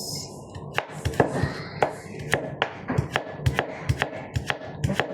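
A knife chops onion on a cutting board in a home kitchen, roughly a dozen and a half sharp, close knocks in an uneven but steady rhythm, with no voices in between.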